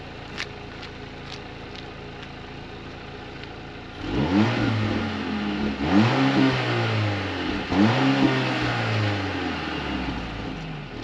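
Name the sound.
car exhaust revving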